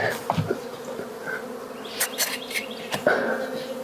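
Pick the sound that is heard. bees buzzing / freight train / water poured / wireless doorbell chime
bees buzzing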